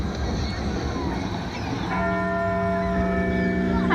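Bell chiming inside the Legoland model of Elizabeth Tower, the Big Ben bell, beside a canal. A noisy outdoor wash gives way to sustained ringing tones that hold steady for the last half.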